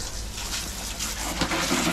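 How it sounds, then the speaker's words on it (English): Shower water sprays steadily while a bathroom is rinsed, a continuous broad hiss with slight surges near the end, close and uninterrupted. "let's get this shower on and get rinsing"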